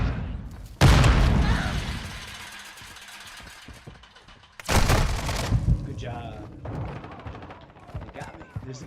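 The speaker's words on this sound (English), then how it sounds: "Tossing sticky grenade." Sticky grenade blasts in Call of Duty: Modern Warfare II, two loud, close booms a few seconds apart, each fading into a rumbling tail, with speech and engine-like noise beneath.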